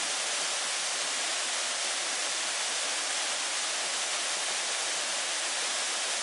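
A steady, even rush of water gushing from a natural spring close by, like a small stream, with no voices.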